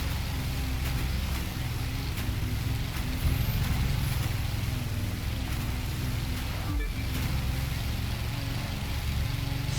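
A speedboat in the racing game The Crew 2 blasts through waves, giving a fairly quiet, steady engine drone mixed with rushing water and spray, plus a brief dip in the noise partway through.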